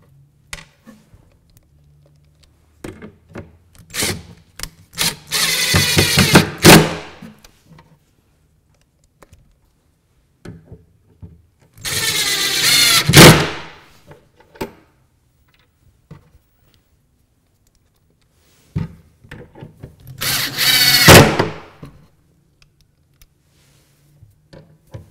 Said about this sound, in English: So let me put those screws in right now.